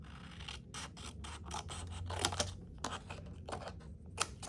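Paper is trimmed for a Stampin' Up card project with a run of sharp cutting snips and crisp slicing strokes, close and irregular, over a quiet background with no talking.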